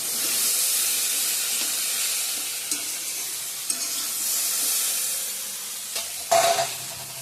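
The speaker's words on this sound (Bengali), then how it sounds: "কচুটা একটু ভালো করে ভেজে নেব।" Taro pieces frying in a pan, making a continuous hissing sizzle close by, with a few soft knocks and a brief scrape near the end, and no talking.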